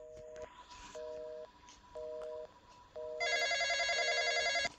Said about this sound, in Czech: A teďka začne zvonit telefon.